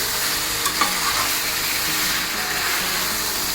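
Mutton pieces and spices, with a little sugar, stirred in a hot pan as a mutton kasha cooks, giving a steady close sizzle with soft scraping strokes throughout and no talking.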